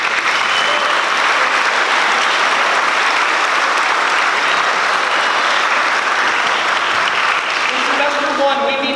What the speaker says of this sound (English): So if you can give a round of applause to my 8th graders.